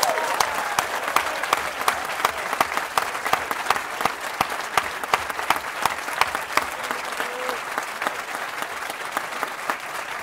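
An audience at a school exhibition prize-giving applauds in a sustained, dense wash of clapping from many hands, loud and even for the whole stretch, with no voices standing out.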